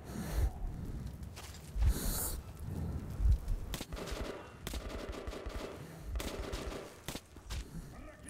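Gunfire from the video game Metro 2033 Redux: several loud, sharp shots and bursts spread through the clip, with rattling automatic fire near the end and a few breathy grunts between volleys.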